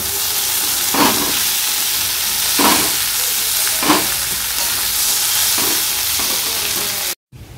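Food fries slowly in a pan with a steady, hissing sizzle, while soft stirring scrapes recur every second or so, close up and unbroken until a sudden brief cutout near the end.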